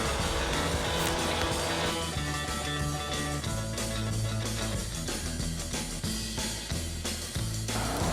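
A 1950s Chevrolet Corvette races in the Forza video game, its engine revving loud and continuous through gear changes, rising and falling in pitch with brief shifts, with no voices.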